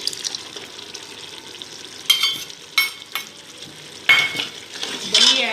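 Yogurt is stirred into tender cooked goat meat over low heat for Afghan gosht, a soft simmering sizzle broken by several loud scraping and clattering bursts from a spoon against the pot.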